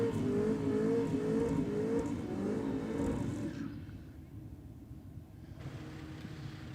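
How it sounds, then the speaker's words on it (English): A diesel drag car at a dragway night does a smoky burnout, a loud engine roar with rising revs that drops away to a lower, distant rumble. "Big smoky burnouts."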